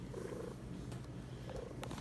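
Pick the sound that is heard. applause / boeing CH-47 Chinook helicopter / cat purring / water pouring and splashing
cat purring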